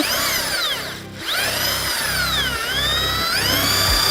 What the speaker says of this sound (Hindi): ड्रिल में जो बिट है उसकी जगह ब्रश घूम रही है।